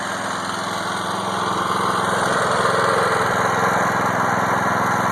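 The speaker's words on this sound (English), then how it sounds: "you can see the belt turning the alternator there" A homemade DIY generator runs unloaded, its small engine driving an alternator by belt, producing a steady, close, even engine drone throughout.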